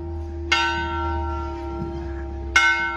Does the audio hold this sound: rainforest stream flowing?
no